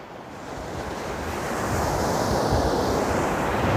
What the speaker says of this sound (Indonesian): Kita dekat lagi ke pantainya.